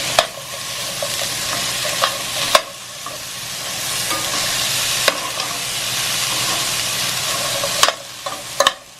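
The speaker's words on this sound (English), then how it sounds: "Add your onions. Give them a zhuzh in the pan." Onions sizzle steadily in hot oil in a pan, with a few sharp scraping knocks from stirring scattered across the clip and no talking.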